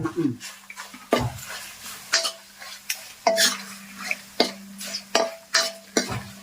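Bitter gourd sautéing with chili powder in a pan, Kerala village style: a spoon stirs and scrapes the pan in a regular rhythm of loud knocks over a soft sizzle, with a faint steady hum beneath.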